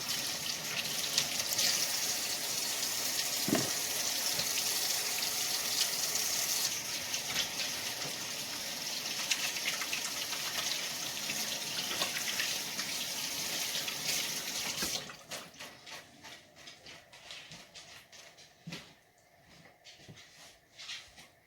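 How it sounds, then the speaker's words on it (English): Water runs steadily from a tap into a sink during handwashing, a close, continuous splashing stream that cuts off abruptly partway through, leaving quiet room tone with faint clinks. "Wash my hands real quick."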